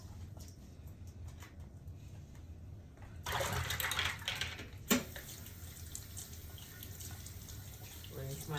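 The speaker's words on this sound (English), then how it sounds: "Rinse my hands again." Tap water runs into a kitchen sink during cooking, a soft steady stream that surges louder midway as hands are rinsed under it, with a brief splash, then settles back to a quieter flow.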